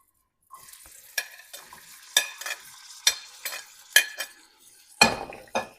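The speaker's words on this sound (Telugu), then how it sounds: "ఈ బొమ్మడి చేపల్ని ఈ దీనిలో వేయించేసుకుందాం" Bommidi fish frying in a few spoons of hot oil, with close bright sizzling bursts, clatters of a utensil against the pan and sharp crackling pops that come and go.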